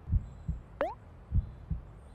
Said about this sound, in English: Yeah, the heartbeat's still steady too.